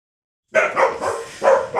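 A dog right next to the listener barks loudly in a quick burst of several sharp barks that begin abruptly after a moment of silence.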